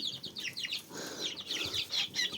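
Young chicks in a barn peeping in a dense chorus of high, rapid chirps, close by and continuous, with faint rustling beneath.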